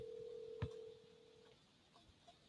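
A telephone line rings during a call, a steady electronic ring tone that sounds briefly and cuts off, faint and thin against a quiet hiss with a soft click or two.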